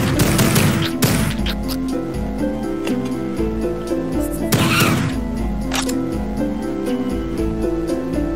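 Double barrel shotgun blasts in the retro shooter Project Warlock, heavy booming shots spaced apart over constant loud game music and effects.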